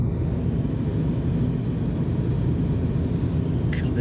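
Airplane descending over Montreal on approach into the airport, a steady loud cabin roar of engines and airflow throughout, with a brief faint high chime near the end.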